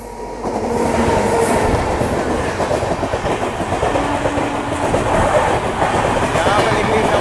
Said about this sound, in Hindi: यहाँ पे निकली चंबा राजधानी ओवरटेक करते हुए, एक्सेलरेट करते हुए।